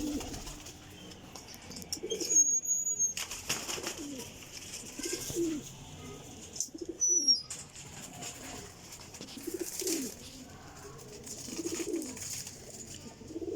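Top high-flying pigeons coo in soft, low repeated phrases close by, with occasional sharp chirps and a couple of brief gaps, over faint background noise and no speech.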